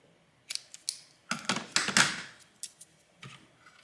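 Scissors snip a square piece to fit a hole during an air vent repair on a Mitsubishi Legnum Galant. Quiet, close cuts come in a quick irregular series of sharp clicks, with no talking.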